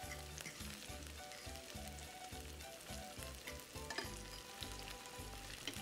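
Grated garlic sizzles steadily in a pan with onion and cabbage, giving a dense, even crackle. A soft low rhythmic thumping runs underneath. The sound is faint and there is no talking.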